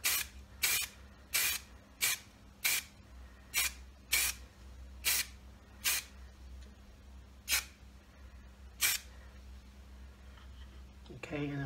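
Spray can bursts coating parts of a Tamiya 1/16 scale RC Sherman tank model: about a dozen short hissing sprays in a steady rhythm, close and fairly loud over a low background hum.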